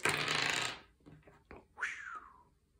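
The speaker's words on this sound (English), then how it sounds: "First, we'll roll each of these four types of dice" Tabletop game dice rolled onto a hard surface: a burst of rattling clatter followed by a few sharp clicks as they settle, close and fairly quiet.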